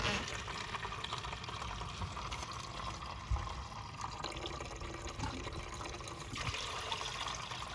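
Water rushes steadily out of a Winnebago Travato's just-opened black and gray waste tank valves, a continuous close, hissing drain flow with no talk.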